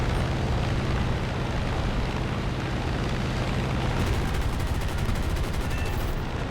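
Aircraft machine guns firing in War Thunder during a dogfight with bombers, a sustained dense rattle under steady engine drone, with rapid bursts sharpening toward the end.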